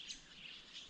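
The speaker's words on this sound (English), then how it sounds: "Ducks, wildlife, birds." Birds, including ducks, calling in the Australian outback near Aputula, a brief, faint burst of distant chirps over quiet open air.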